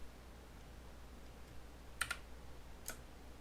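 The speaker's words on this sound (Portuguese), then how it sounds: "Vou segurar com o shift do teclado e clicar com o mouse." A computer keyboard and mouse are used at a desk: a few faint, sparse clicks and key taps sound close by over a low steady room hum, with no speech.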